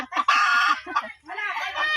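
A farmyard chicken near a freshly laid egg gives loud, close clucks and drawn-out squawking calls in two bursts, with a brief pause between them.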